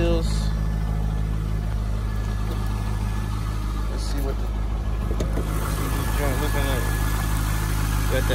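An LS V8 in a convertible on Corvette wheels idles at an auction lot with a loud, steady low rumble that holds throughout, while voices murmur faintly alongside.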